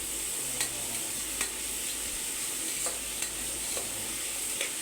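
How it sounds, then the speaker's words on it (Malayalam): Chopped onions sizzle and fry steadily in a pan for a mutton curry, with a spoon scraping and stirring at irregular moments over the constant hiss; no one speaks. "ഇനി നമുക്കിതിലേക്ക് അരിഞ്ഞു വെച്ചിരിക്കുന്ന സവാള ചേർത്ത് കൊടുക്കാം."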